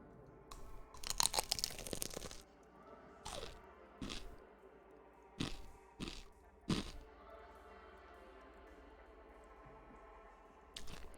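Pineapple pizza being eaten close to the microphone, a burst of loud crunchy bites followed by several separate crisp crunches and softer chewing at irregular intervals, with quiet pauses between them and no talk.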